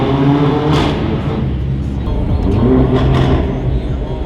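Mercedes CLA 45 AMG with a loud aftermarket exhaust revving inside a road tunnel, a sustained booming drone with echoing roar and bursts of crackle, heard close with engine noise throughout.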